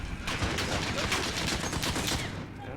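Sustained automatic gunfire from a machine gun in a Call of Duty match, a dense, continuous burst of rapid shots close and loud for nearly three seconds, easing off only at the very end.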